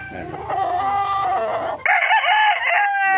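Chickens and roosters at feeding time fill the air with loud, close clucking and a drawn-out crow, several birds calling over one another without pause.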